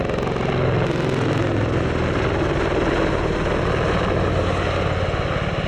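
Apache attack helicopter at the Cosford Airshow 2019, its twin turboshaft engines roaring in a loud, steady rotor-and-turbine drone that fills the whole stretch without a break.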